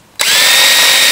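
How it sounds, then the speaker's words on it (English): A power drill pre-drills a hole while mounting a weather station on a telephone pole, its motor starting abruptly and then whining loud, close and steady. "I'm gonna pre-drill one of our holes."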